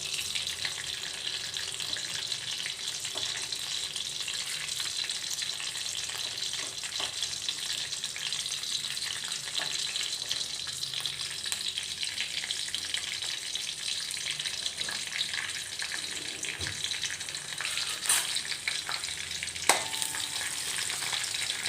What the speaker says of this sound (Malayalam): എണ്ണയൊന്ന് ചൂടായി കഴിയുന്നതന്നെ അതിലേക്ക് നമ്മൾ പെരുംജീരകം, ഗ്രാമ്പു, ഏലക്ക എന്നിവ ഇട്ട് കൊടുക്കാം